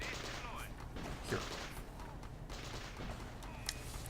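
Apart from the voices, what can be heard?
defensive cannons firing in a strategy video game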